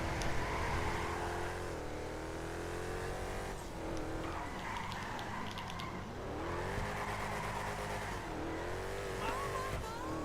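An Albany Frankan Stange car, a game vehicle, drifts through corners: a continuous engine roar that rises and falls with layered tire squeal sweeping across the turns, steady and fairly distant-sounding, with no talking.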